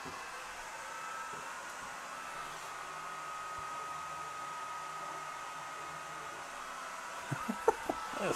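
A Swiitol C18 Pro 18W laser cutter runs at 100% power at 1,000 mm per minute, a steady airy whir of fan and motion that holds even and moderately quiet, with a few small clicks near the end.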